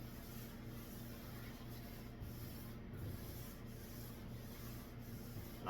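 A fresh, clean rag wiping over a stained wooden desk top, giving a steady, close, continuous rubbing swish with faint repeated strokes and no talk.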